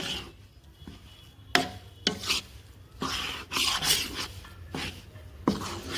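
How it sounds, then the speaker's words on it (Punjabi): Flour roasting in a pan for khoya pinni is stirred with repeated scraping and rubbing strokes, close and rhythmic, with a light sizzle underneath and no talking. "ਇਹਨੂੰ ਨਾਲ ਨਾਲ ਹਲਾਈ ਜਾਣਾ"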